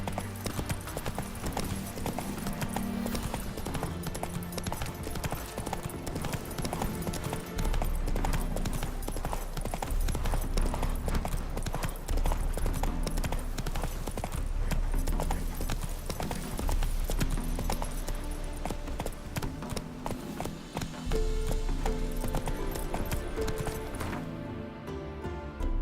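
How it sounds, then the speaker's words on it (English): Horse hooves clip-clop at a steady gallop in The Witcher 3 video game, continuous and prominent over game music and ambience throughout. "Whoa there, Roach."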